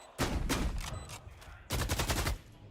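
Rapid bursts of Valorant gunfire at an esports match, two loud dense volleys of shots separated by a short lull, close and punchy with no talk.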